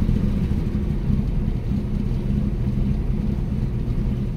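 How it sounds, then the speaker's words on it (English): A 1965 Mustang's 6-cylinder engine with a 3-speed transmission idles steadily with a low, continuous rumble, close by and unbroken, carrying a slight stumble in its running. "A running 6-cylinder with a 3-speed trans."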